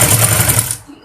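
A sewing machine stitches along the finely folded edge of a kurti with a fast, steady mechanical whirr that stops abruptly, close and loud.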